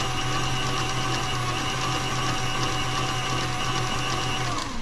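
An electric mixer whirs steadily through coffee cake batter, a continuous loud motor hum with no pauses and no talking.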